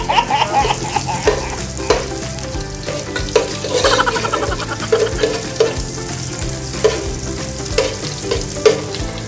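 Garlic frying in butter in a pan, a loud close sizzle punctuated by repeated clinks and scrapes of stirring.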